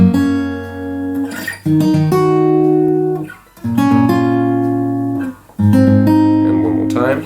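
Fingerpicked acoustic guitar plays the bridge of a song, with plucked chord patterns that ring out in short phrases separated by brief gaps, close and fairly loud.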